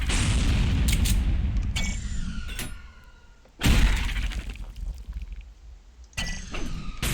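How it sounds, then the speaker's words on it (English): A Knuckle Blaster punch with knockback from the fast shooter game Ultrakill, heard as a few loud booming blasts with crunching, shattering impacts and ringing tails, separated by brief quieter gaps. "the Knuckle Blaster. It has knockback I mean, it has knockback."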